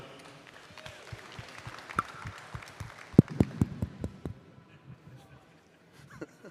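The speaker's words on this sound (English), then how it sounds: "Round of applause to yourselves, everyone." An athletics event crowd claps in a brief burst of applause, moderately loud and scattered, fading out toward the end with some voices mixed in.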